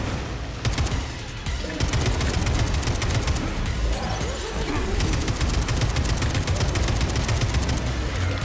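Rapid, repeated gunfire from the shooter video game Atomic Heart: dense bursts of sharp shots rattle almost continuously under faint background sound.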